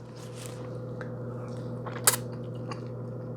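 Soft, close chewing of ripe mango, with wet squishy bites and a brief sharper smack near the middle over a low steady background hum.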